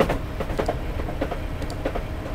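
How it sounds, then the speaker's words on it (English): A Sheffield to St Pancras International high-speed train in Train Simulator 2018 rumbles past at close range, with steady rhythmic clickety-clack over the rails and a continuous low roar. "That's the Sheffield to St Pancras International HC that's past us."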